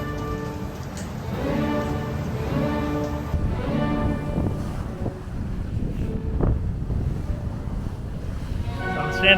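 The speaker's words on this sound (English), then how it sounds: "looking north in the Atlantic Ocean. 30 knots of wind, and we are pretty much downwind" Strong wind and ocean waves surround a sailboat running downwind in 30 knots in the Atlantic, a steady roaring rush with wind buffeting the microphone and water washing continuously throughout.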